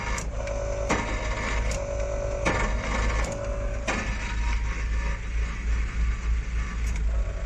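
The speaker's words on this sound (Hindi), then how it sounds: "गाड़ी को स्टार्ट करते हैं। स्टार्ट नहीं हो रही" An Iveco vehicle's engine cranks without starting, a steady low starter drone broken by repeated sharp clicking bursts over several seconds, close and continuous.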